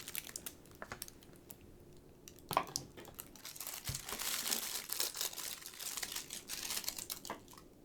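Plastic wrapping around a pink slime crinkles and crackles softly in close, irregular bursts that grow busier toward the end, quiet and intimate with no talking.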